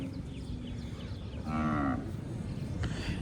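A Kankrej cow gives a single clear moo of about half a second, close by, over steady farmyard background noise.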